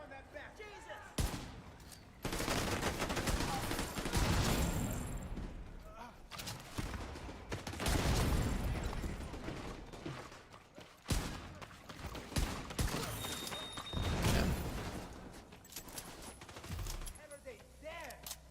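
Gunfire in The Division 2 video game, with repeated bursts of automatic rifle fire and sharp shots that come in loud dense clusters, separated by brief pauses, while someone shouts over the action.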